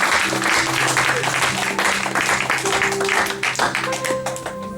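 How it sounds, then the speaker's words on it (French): Church congregation clapping and cheering loudly for God's glory, dense sustained applause with voices calling out over it, easing slightly toward the end as a few sung or held tones come through. "Est-ce qu'on peut acclamer très fort pour la gloire de Dieu?"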